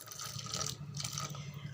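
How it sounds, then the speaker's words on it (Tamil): A small amount of water pours from a blender jar into coconut chutney, a faint, brief trickle and splash over a low background hum. "கொஞ்சமாக ஜாரில் இருக்கிற தண்ணி,"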